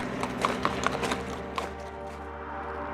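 Horse hooves clip-clop in a quick uneven rhythm as a group of soldiers rides by in Chimgan, Uzbekistan, fairly close at first and then fading to a low hum.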